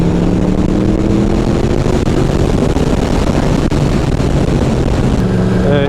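A Yamaha MT10 motorcycle engine runs loud and steady, its revs slowly climbing and holding in a continuous droning tone, with a faint voice mixed in underneath.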